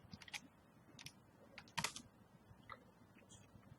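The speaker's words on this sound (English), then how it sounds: "So I'm going to type this one." Someone types on a computer keyboard, with scattered light clicks and short bursts of keystrokes, close and quiet with no voice.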